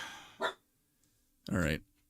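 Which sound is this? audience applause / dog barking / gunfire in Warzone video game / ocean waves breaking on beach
dog barking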